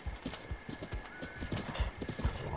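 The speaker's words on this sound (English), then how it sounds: "There's our horse." Rapid clip-clop of horse hooves trotting, with a whinny mixed in, loud and close throughout, from the video game The Legend of Zelda: Breath of the Wild.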